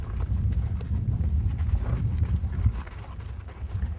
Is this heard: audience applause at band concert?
no